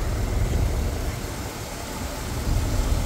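A 1972 Lincoln Continental engine idles with an exhaust leak, a steady loud low rumble with broadband hiss, close to the car and without talk.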